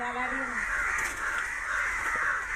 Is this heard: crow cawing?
yes